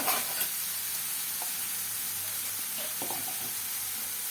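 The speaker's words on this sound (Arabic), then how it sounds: "احلى طشه محشي" Stuffed vegetables (mahshi) frying in hot oil give a steady, close hiss and sizzle throughout, with a few small clinks and stirring knocks scattered over it.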